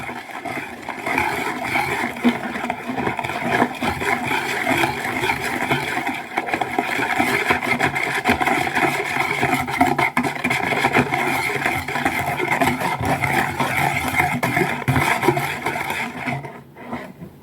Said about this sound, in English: whisk this in until it has a smooth batter.